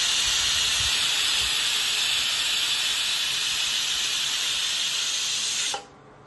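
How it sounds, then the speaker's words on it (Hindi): A loud, steady jet of hissing steam from a pressure cooker whistle blasts continuously for several seconds, then cuts off abruptly near the end, leaving a quieter background. "हमने कुकर बंद कर दिया है, इसमें विसल लगा दी है"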